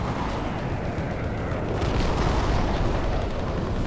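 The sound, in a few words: tank shell explosions in Battlefield Play4Free video game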